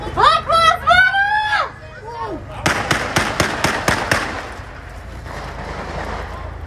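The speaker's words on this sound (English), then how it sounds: "Shots are fired." Gunshots fired during a street riot: a rapid string of about seven sharp cracks over a noisy crowd, following shouted voices and agitated talk close by.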